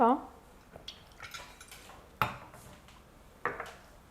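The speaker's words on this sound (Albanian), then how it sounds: "Përdorim një tigan apo tenxhere relativisht të vogël ku do të vendosim qumshtin dhe panën në të njëjtin vend" A small pan or pot is handled in a kitchen while preparing milk for a simple New Year aperitif, giving a few sharp metallic clinks and knocks spaced across a few seconds against a quiet background.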